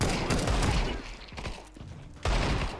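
Gunfire in the video game Counter-Strike 2: a few sharp, loud shots in quick bursts, separated by brief gaps, with a faint voice in the background.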